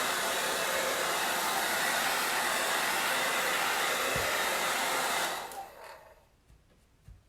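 A hair dryer blows loudly and steadily close by, drying chalk paste on a board, then switches off near the end, leaving near silence with a few faint handling taps.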